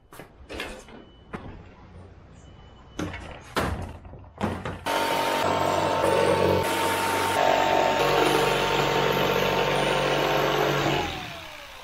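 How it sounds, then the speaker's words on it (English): Jigsaw cutting quarter-inch plywood for a boat back seat rebuild: after a few short knocks and handling sounds, a steady, loud buzzing cut runs continuously for about seven seconds, then winds down as the blade stops. "I'm going to cut the plywood into two pieces that will be divided by the triangle piece"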